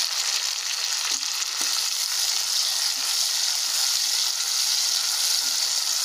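Finely chopped tomatoes added to onions frying in a pan for a ridge gourd kofta curry, a constant close sizzling hiss with occasional stirring clicks throughout.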